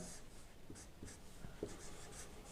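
Chalk or marker scratches and taps against a board in short strokes while a maths division problem is worked out, faint and close in a quiet room with no speech over it.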